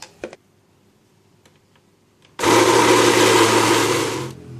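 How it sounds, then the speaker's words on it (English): A blender whirs loudly and steadily for about two seconds as it purees fish paste for otak otak grilled fish cakes, after a few faint clicks. "Now I'm going to add on the fish and continue to blend it."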